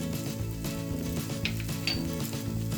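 Cubed potatoes stir-fry in a pan with red chili powder, cumin powder and salt. The close, continuous oily sizzle carries light scraping stirs, with a faint steady hum behind it.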